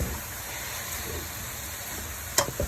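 Shrimp sizzle and crackle in hot oil in a pan. A steady close hiss runs throughout, with a few sharper pops near the end.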